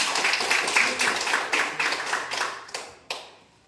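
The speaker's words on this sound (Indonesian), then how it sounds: "Luar biasa, tepuk tangan." A classroom of students claps together, starting as dense clapping that thins into a few scattered, sharper claps before stopping.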